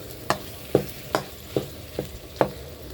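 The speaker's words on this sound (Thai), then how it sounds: "ผัดพริกแกงให้หอมก่อน" Six rhythmic scraping strokes of a utensil stir-frying curry paste in a small pan, with a faint sizzle underneath and no talking.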